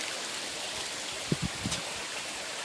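Water trickles and flows softly in a garden pond water feature on a Santa Fe patio, a faint steady wash with a few brief close splashes and drips midway.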